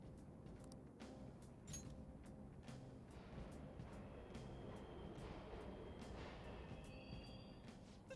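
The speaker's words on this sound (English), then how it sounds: "The trains are totally running." Subway trains running in the video game Persona 5 Royal, a steady low rumble with faint metallic clicks and high squeals, heard as continuous background ambience.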